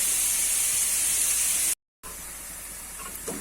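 Onions sauté in a pan for spicy pepper chicken, a steady bright hiss that cuts out briefly, then resumes just as strong.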